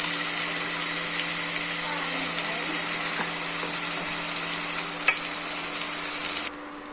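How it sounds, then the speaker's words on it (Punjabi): Onion and garlic paste fries in a pan after roasted cumin and coriander for a potato-cumin curry, a loud continuous sizzle with a faint steady hum and an occasional light clink. "ਪਿਆਜ਼ ਤੇ ਲਸਣ ਨੂੰ 2 ਤੋਂ ਤਿੰਨ ਮਿੰਟ ਲਈ ਭੁੰਨਾਂਗੇ"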